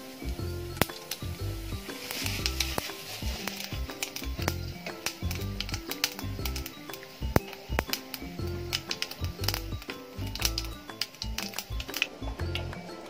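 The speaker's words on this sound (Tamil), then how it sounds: "இப்போ கடுகு பட்டை எல்லாம் நல்லா பொரிஞ்சாச்சு" Mustard seeds and cinnamon sticks, with cardamom, sputter in hot oil as aloo manchurian is being made, giving a steady close stream of dense crackling pops with sharp louder snaps scattered throughout.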